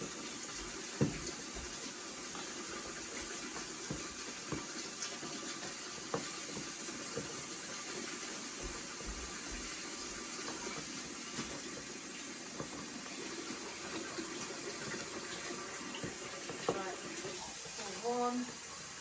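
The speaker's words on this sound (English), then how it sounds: "Now I've got issues with me plug in my sink at the moment, so I'm constantly having to top up the water." Water running from a tap into a sink whose plug leaks, a steady hiss with occasional knocks and small clatters, continuous at moderate level.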